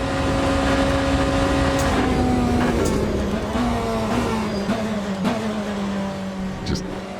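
Race car engine droning steadily in the sim racing game Le Mans Ultimate, a sustained tonal whine shifting pitch through gear changes and corners, loud and continuous with faint background noise.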